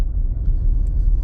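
A car driving on the road during a day of DoorDash deliveries, heard from inside as a steady low engine and road rumble with a faint brief high chirp partway through, no talking.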